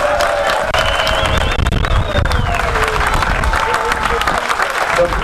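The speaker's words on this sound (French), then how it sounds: "on peut l'applaudir aussi très fort" Loud, dense applause from an audience at a fire brigade union's Saint Elme festival, cheering for a fire chief, sustained throughout with crowd noise and a tonal whine drifting through it.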